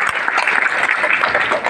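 Audience applause at an organized program, a dense steady wash of clapping lasting the whole moment without a break.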